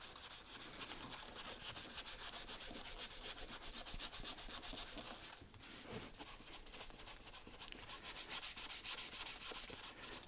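Hand sanding of a Turner 4 1/2 smoothing plane, with rapid rhythmic back-and-forth scraping strokes of abrasive on metal, steady and close but fairly quiet, with a brief pause midway and no talk.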